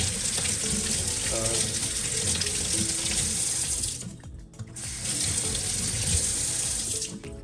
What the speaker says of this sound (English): the water will run for 2 minutes and it will turn off after that